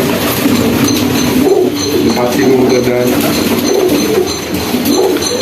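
Pigeons, a mix of local and high-flying breeds kept at a home loft, coo in low repeated murmurs amid steady background noise and some distant mechanical hum.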